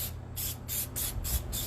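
Glue sprays in short, close hissing bursts onto a show cow's teased hair during fitting, about five rhythmic pumps in quick succession with brief gaps between them.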